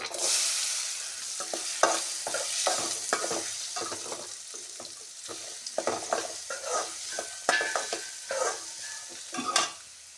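Turmeric and onion frying in a pan for a masala dosa filling, with steady close sizzling broken by repeated scraping stirs of a spatula, moderately loud, no voices.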